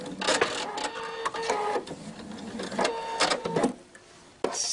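A sewing machine runs a few quick stitches on a jersey T-shirt, in short whirring bursts with brief pauses, close and clear, ending in a faint quiet stretch.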